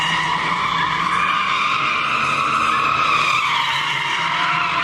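A Ford Mustang skids into a car meet, its tires giving a loud, sustained squeal that stays steady for several seconds over a low engine rumble.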